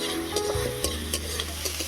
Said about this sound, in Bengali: আদা রসুনটা ভালো করে ভেজে নেব যতক্ষণ না কাঁচা গন্ধ যাচ্ছে।